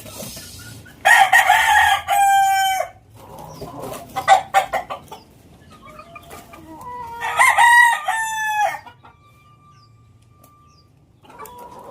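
A Boston Roundhead gamecock rooster crows loudly and close by, two full crows several seconds apart with clucks and softer calls in between.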